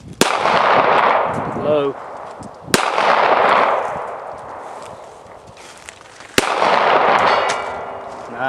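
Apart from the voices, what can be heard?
rifle gunshots at a 200-yard shooting range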